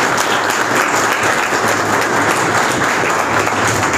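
An audience at a school and college inauguration ceremony applauding, a loud, dense, steady wash of clapping from many hands with no pause.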